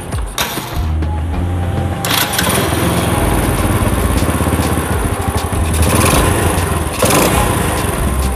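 A motorcycle engine runs loud and close after servicing of a flooded carburetor, idling roughly with the revs rising and falling as the idle is adjusted, with no talk over it.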